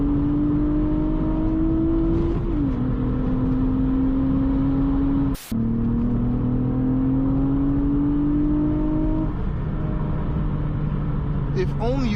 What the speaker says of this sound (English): If only you guys understood just how good this car sounds